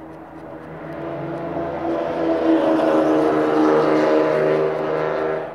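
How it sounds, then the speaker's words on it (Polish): A motorcycle engine drones past, rising to a loud peak midway and then fading, its tone shifting as it goes by. "sorry za hałasy, motor przejechał."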